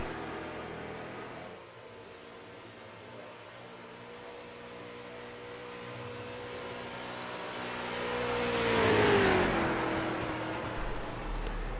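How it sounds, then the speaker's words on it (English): Street stock race car number 73 circling a dirt oval track during a race, a steady engine drone that swells louder as the car comes nearer around eleven seconds, with a rising whine. "There's his beautiful car rolling around the track there"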